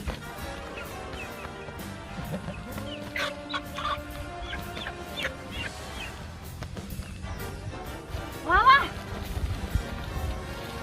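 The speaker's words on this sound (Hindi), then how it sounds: "गुरु गुरु वो देखो मुर्गी।" A chicken in a Hindi comedy film scene clucks in short intermittent bursts, mid-distance, mixed under background music, and a voice talks briefly near the end.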